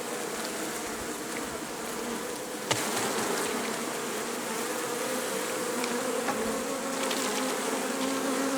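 A dense swarm of honeybees being shaken off comb buzzes loudly and continuously close by, with a single dull thump partway through.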